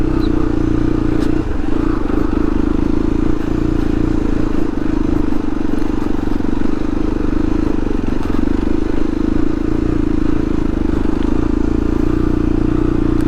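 A motorcycle rides offroad on a dirt track toward Rotinsko Lake in Macedonia, its engine droning steadily and loudly throughout with light clatter from the rough ground.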